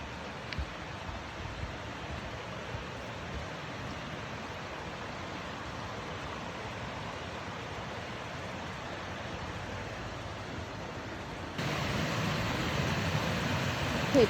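Blackwell Creek rushes steadily along the Big Canoe hiking trail, a constant broadband wash of flowing water that grows slightly louder near the end, with no voices.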